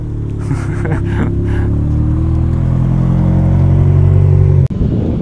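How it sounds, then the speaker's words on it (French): A Ferrari pulls up at a car meet with a loud, steady engine rumble that swells into revving, then cuts off abruptly near the end. "il y a mon ex Ferrari qui arrive"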